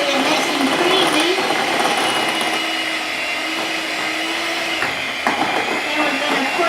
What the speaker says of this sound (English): now we're going to take the mixer, mix it up nice, get it nice and creamy